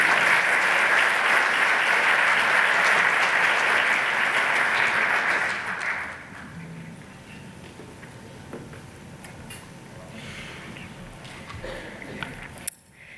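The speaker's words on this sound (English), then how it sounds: "Let's give her a round of applause." Conference audience at a general session gives a round of applause, loud and steady for about six seconds before fading into quiet room noise with scattered small knocks.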